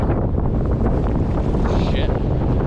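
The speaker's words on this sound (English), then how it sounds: "It is windy out here, honestly." Strong wind roars across a frozen lake during a winter ice fishing camping trip, a loud, steady, broadband buffeting hitting the microphone throughout with no letup.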